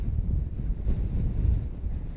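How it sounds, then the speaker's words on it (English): Strong wind buffets the microphone on a high, exposed point above a valley, a continuous low roaring rush with no one speaking over it. "Wind really bad up here."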